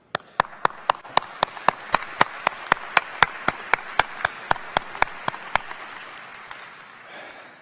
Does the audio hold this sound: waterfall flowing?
no